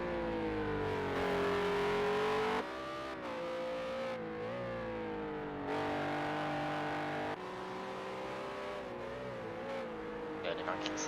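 Race car engine in a racing game at Circuit of the Americas, a sustained loud droning whine that rises and falls through gear changes, with a voice talking over it.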